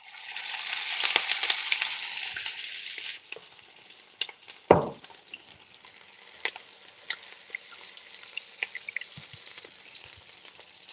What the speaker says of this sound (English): I will start to fry, guys, with a spoon